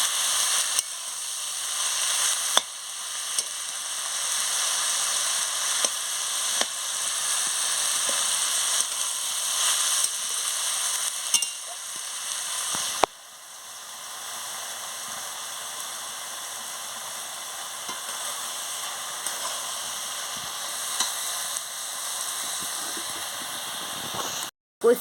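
Cabbage cooked down with fish head in a pan gives a steady broadband sizzle and hiss, with a few sharp clicks of stirring and a brief break near the middle before the frying noise resumes, close and fairly even throughout.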